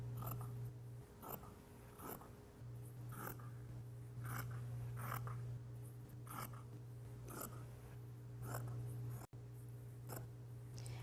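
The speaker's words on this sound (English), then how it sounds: "Once I can see the run in the fabric, I can simply cut along that line." Scissors cutting fabric along the grain line, a steady series of crisp snipping strokes repeating every half second or so, close and clear over a low steady hum.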